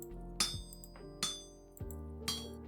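A smith's hammer strikes hot metal on an anvil during forging in the survival game Vintage Story, four ringing metallic clinks spaced about a second apart, each with a bright, lingering tonal ring.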